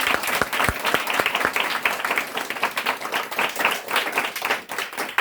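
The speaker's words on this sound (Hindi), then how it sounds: "ताली बजाकर उस परमेश्वर को धन्यवाद दे सकते हैं।" A church congregation claps hands in thanks to God during a Hindi sermon, producing a loud, sustained wash of applause with a few sharper individual claps near the start.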